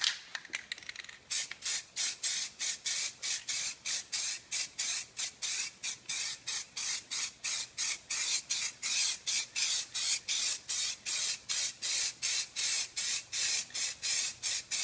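An aerosol can sprays Flexidip onto car wheel rims in a long series of short, even bursts, each a sharp close hiss, repeating steadily with brief gaps between them.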